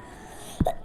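A single short cough bursts out after near silence, followed by a brief throat sound and another sharp burst at the end, close and fairly loud.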